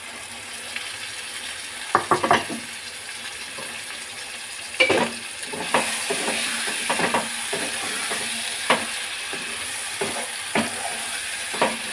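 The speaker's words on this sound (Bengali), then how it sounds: "এবার মটনটাকে দিয়ে আমি কষাবো" Marinated mutton sautéed in spiced masala that has released its oil, giving a steady close sizzle broken by repeated sharp scraping stirs, with no talking.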